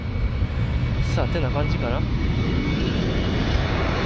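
A fixed-wing airplane's engines roar steadily near Itami Airport at the Itami Sky Park, a continuous loud drone filling the whole span while people talk briefly over it.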